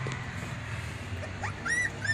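A newly adopted dog whimpers and yips in high, thin rising whines, soft at first and then louder near the end, over a low indoor hum.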